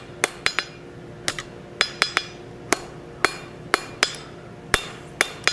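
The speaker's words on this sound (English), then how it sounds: "We're going to straighten up at the anvil." Forged iron curtain tie back is hammered on an anvil: sharp, ringing metallic strikes land close and loud, in uneven clusters of one to three blows, with no voices.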